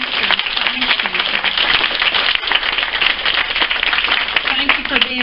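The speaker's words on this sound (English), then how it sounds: "Let's give them a round of applause." An audience at an evening ladies' meeting for a sheriff's race gives a round of applause, a dense, continuous patter of many hands clapping close by while voices carry through it.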